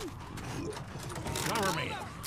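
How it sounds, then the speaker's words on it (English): Gun reloading in the zombie shooter Left 4 Dead, a short burst of mechanical clicks and ratcheting under game noise and voices, set at a boathouse. "Reloading."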